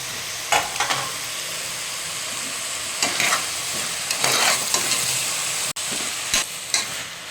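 Chopped tomatoes fry in a pan with a steady close sizzle while a spoon scrapes and stirs them in several distinct strokes, with one sharp clack near the end and no voices.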